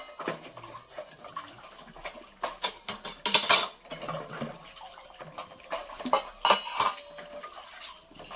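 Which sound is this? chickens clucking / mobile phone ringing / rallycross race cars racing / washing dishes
washing dishes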